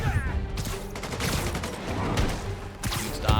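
Dense, rapid gunfire from an enemy in Spider-Man Remastered, a rattling burst of shots running continuously under combat noise, with a brief louder flurry near the end.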